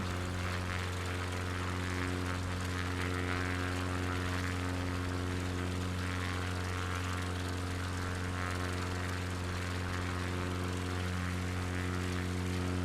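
A propeller aircraft engine in a flight simulator on an Alaska bush flight holds a steady, even drone at low power throughout, with no talk over it.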